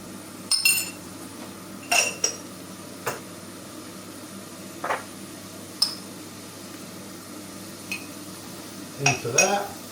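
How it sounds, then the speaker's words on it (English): Cooked, drained Savoy cabbage goes into a pan with a little salt and pepper and is stirred. Sparse metallic clinks and scrapes of a utensil against the pan ring out over a low steady room hum. "I'm now going to add my Savoy cabbage, which has been cooked and left to drain, into there"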